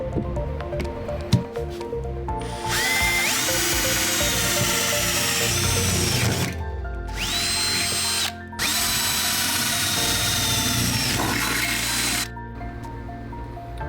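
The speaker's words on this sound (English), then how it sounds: "I'm gonna drill a hole here to allow the insulation foam to flow in." A power drill whirs in three sustained bursts, its motor whining up to speed each time, loud and close, with brief pauses between runs.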